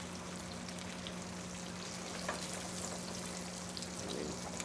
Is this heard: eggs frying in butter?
yes